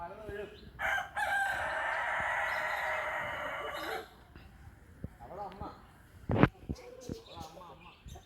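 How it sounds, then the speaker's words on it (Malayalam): A rooster gives a long, loud cock-a-doodle-doo nearby, followed by quieter clucks and bird calls, while people chat around it. "കോഴി വിളിച്ചോ മക്കളെ?"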